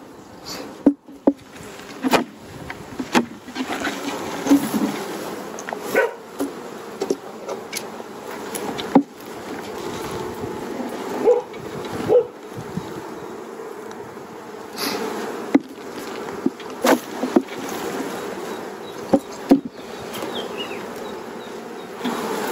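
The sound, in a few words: honeybees buzzing around an opened hive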